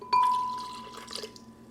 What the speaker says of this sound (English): next up, we're going to add the water. So a quarter cup of water.